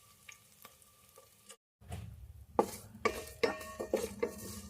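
Red wheat rava roasting in a pan, a quiet scraping stir at first, then a short gap followed by louder metallic clinks of a spoon against the pan over a soft sizzle, close by with no speech.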